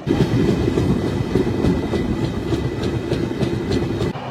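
Continuous loud rumble and clickety-clack of a passenger train running from Howrah to Jhargram via Kharagpur, heard from inside a coach on a rainy day, steady throughout with no talk.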